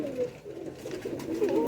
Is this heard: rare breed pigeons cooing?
yes